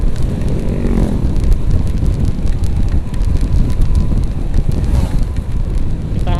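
Rain falls steadily during a motorbike escort ride for an emergency ambulance from Nagreg, a dense, loud wash of rain and wind noise across the microphone with no talking.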